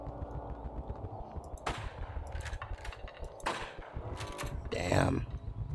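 Gunfire from the horror video game HARAM: several sharp shots ring out in irregular bursts over a continuous rumbling game soundscape, with a louder cluster near the end.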